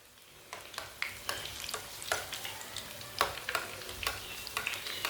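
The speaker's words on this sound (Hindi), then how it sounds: "सिर्फ 2 मिनट के लिए फ्राई होने देना" Egg and onion pakoras frying in hot oil, a steady close sizzle with occasional stirring scrapes and spatters throughout.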